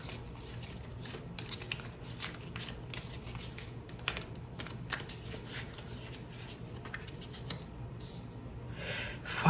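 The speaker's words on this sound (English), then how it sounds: "We're going to shuffle a little more." A deck of tarot cards is riffled and shuffled by hand, a steady run of soft crisp flutters and snaps up close, quiet and continuous without talk.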